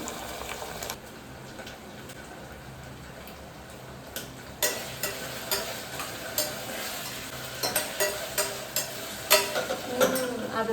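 Mushroom biryani masala is stirred in a pan, with a constant sizzle under repeated scraping and clicking of the spoon against the pan, growing busier toward the end. No voices.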